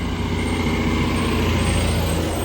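A Tata Marcopolo KSRTC general bus runs on the Nilakkal to Pamba route. A steady, loud diesel engine drone fills the whole stretch, with the hiss of air brakes mixed into a busy roadside din.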